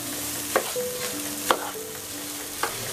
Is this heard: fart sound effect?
no